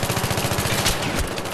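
Rapid automatic P90 submachine-gun fire in Battlefield 3, a fast, steady stream of close, loud shots that fills the whole moment with a brief sharper crack near the end.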